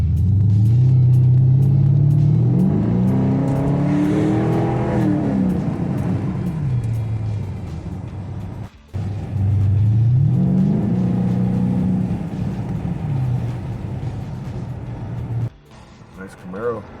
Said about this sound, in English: Nice Camaro.